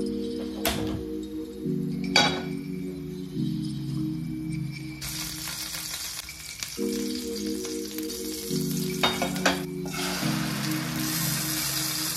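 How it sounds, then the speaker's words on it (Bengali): Eggs frying in leftover fish oil, a close crackling sizzle running under steady humming tones and a few sharp clicks, alternating in busier and quieter stretches. "চলো আর একটুখানি ডিম ভেজে দিই"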